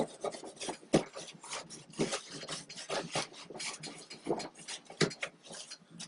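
Repeated rasping scrape strokes, close and fairly quiet, come in an uneven rhythm as a tool cleans old silicone off the inside wall of a jet housing where a new body will mount. No one speaks.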